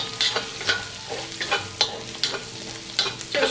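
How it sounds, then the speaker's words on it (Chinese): Dried chili powder being stir-fried in a wok for mapo tofu makes a soft bed of sizzle punctuated by rhythmic scraping of the spatula roughly twice a second, close and clear, with no voices. "继续炒，"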